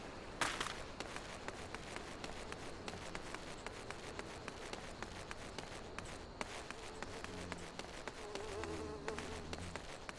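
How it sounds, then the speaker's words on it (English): Hornets buzz in the video game Final Fantasy XIV, a close, persistent insect drone with fluttering wingbeats and light running footsteps throughout, no talk. "the sound of buzzing in my ear as I run past all the hornets there"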